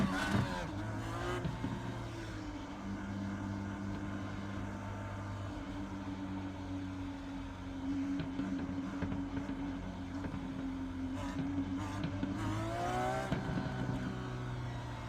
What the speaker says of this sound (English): This car sounds great, especially the pops after the raw rev.